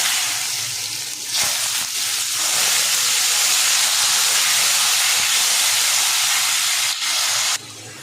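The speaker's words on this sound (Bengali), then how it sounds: "এবার আমি আলুগুলোকে একটু ভালো করে ভেজে নেব।" Diced potatoes with bay leaf, dried chili, carom seeds and cumin fry in hot oil, giving a loud, constant, hissing sizzle that runs almost unbroken, with a brief dip near the start and a drop in level at the end.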